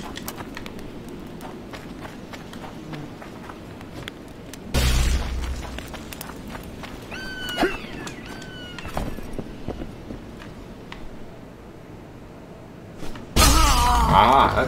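Bomb explosions in The Witcher 2 game: two loud, broad booming blasts, one near the middle and one at the end, with quieter combat clatter and faint effects between them.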